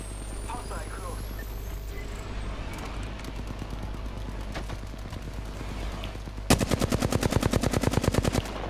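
Gunfire in the shooter Apex Legends, arenas mode, with scattered shots under a steady engine-like drone, then a loud rapid burst of automatic fire near the end, crisp and evenly spaced.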